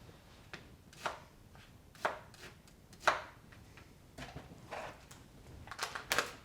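Red onion being chopped, a series of sharp, irregular chopping knocks rising over a quiet background, close and fairly faint, without any talking.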